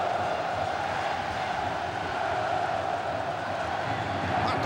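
Botafogo fans in a packed football stadium, the Engenhão, singing and shouting at a championship final, a steady distant roar of crowd voices blending into a constant wash of noise.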